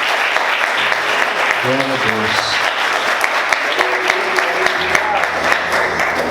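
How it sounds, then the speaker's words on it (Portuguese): A church congregation claps loudly and continuously for several seconds, with a few voices calling out over the applause. "Quantos podem aplaudir Jesus? Bem forte."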